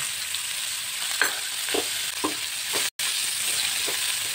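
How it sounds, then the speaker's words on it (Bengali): Chopped onions fry in oil with chilli in a pan for a Bengali brinjal curry, a steady close sizzle broken by several soft stirring scrapes and one brief dropout. "পেঁয়াজগুলো আমি একটু ভেজে নেব।"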